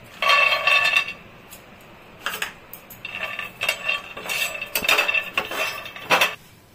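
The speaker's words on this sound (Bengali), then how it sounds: "ফ্রাই প্যানটা গরম হয়ে গেছে, এখন আমি বাদামটা দিচ্ছি।" Peanuts are tipped into a hot frying pan, giving bursts of bright rattling clinks and patters against the metal, with short pauses between pours.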